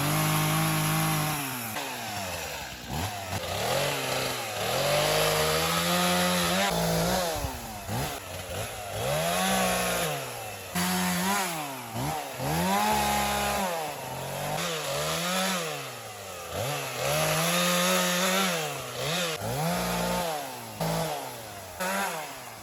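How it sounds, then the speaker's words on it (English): Chainsaws cut through storm-fallen trees and branches outdoors, the engines revving up and dropping again in repeated loud bursts under load and then idling, continuous and close throughout. "So time to get some chainsaws going."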